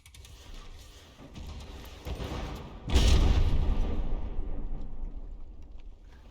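Missile fire and a deep explosion in the video game From The Depths: a rumbling build-up breaks into one loud booming blast that rolls off into a long fading roar, with no talk over it.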